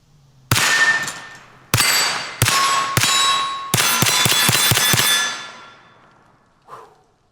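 A Glock pistol in a bullpup conversion fires a slow shot, two more spaced shots, then a fast string of about seven, each sharp loud report ringing out with echo, ending with a faint clink.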